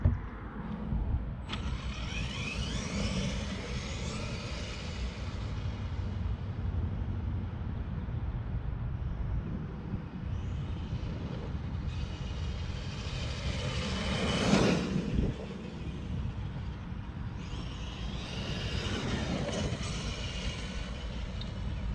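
A Tamiya Super Clod Buster Gray Edition RC monster truck on a speed run, its electric motors whining at a moderate distance, rising and falling over several passes with one sharper surge midway.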